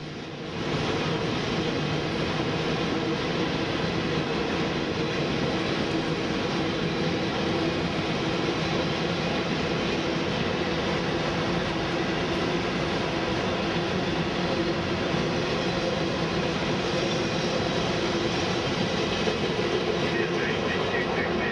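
A freight train rolling through Folkston as its last cars take the switch from one rail line to another, a continuous loud rumble with steady rail noise throughout, and a voice talking over it.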